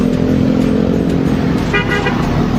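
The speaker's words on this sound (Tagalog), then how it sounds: "Busina lang, busina si Kotse." A car horn toots in busy Manila-area traffic, short honks standing out over the loud, steady engine and road noise of nearby vehicles.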